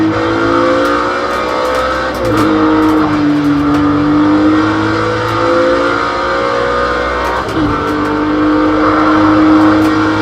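A Group C race car engine in Project Cars 2 roars loud and close, its pitch climbing steadily and then dropping sharply at two gear shifts before winding up again.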